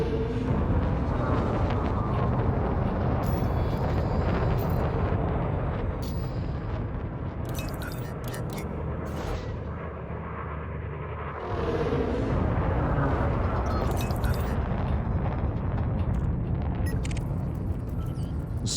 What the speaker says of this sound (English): we got some shooting over here